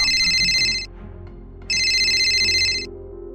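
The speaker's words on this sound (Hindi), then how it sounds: "तभी उसका फोन बजने लगा" A phone rings in two loud electronic bursts separated by a short pause, with a faint low hum underneath and no voices.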